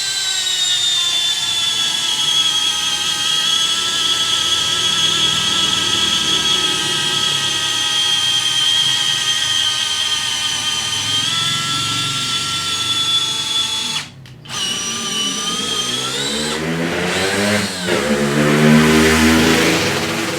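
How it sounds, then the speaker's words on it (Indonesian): A Xenon 12V X-CDDS211 cordless drill whines steadily at high speed, cuts out briefly near the end, then spins back up and revs again, close and loud with no talking. "kita akan coba selanjutnya untuk feel menyekrup ya dengan mata drill bit ya"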